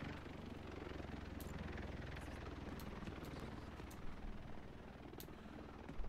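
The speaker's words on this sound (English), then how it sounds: "I can hear a drone somewhere." A drone flying somewhere nearby, heard as a steady low rotor-like drone with a few faint high ticks over it, continuous and fairly quiet throughout.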